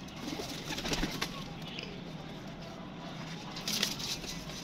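Pigeons cooing softly in a loft, a low steady murmur of several birds with a couple of faint brighter calls and light background noise; no talking.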